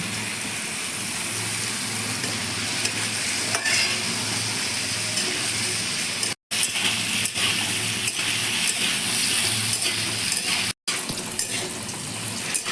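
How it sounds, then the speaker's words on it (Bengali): Squash pieces coated with salt and turmeric fry in a pan, giving a steady, even sizzle that is cut by two brief gaps, with no talking. "স্কোয়াশগুলো আমি ভেজে নিচ্ছি নুন হলুদ দিয়ে মাখিয়ে রেখেছিলাম এবার ভালো করে এটাকে ভেজে নেব"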